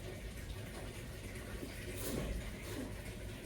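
Rain falling outside at Machapuchare base camp on the Annapurna trek, a steady broadband hiss of drops that stays even and faint, with no voices.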